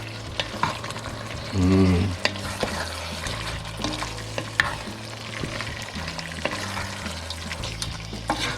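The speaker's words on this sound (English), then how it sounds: "We are just gonna stir this in and then turn off our flame" Salt mackerel rundown bubbles and sizzles in a pan as it is stirred, with close clicks and scrapes throughout and a short low hum near the start.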